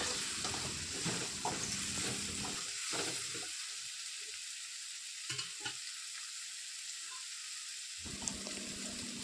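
Tomatoes, green chilies and curry leaves sizzle and crackle in a hot pan while being stirred, with a steady frying hiss and occasional scraping of the spoon, close and continuous with no talking.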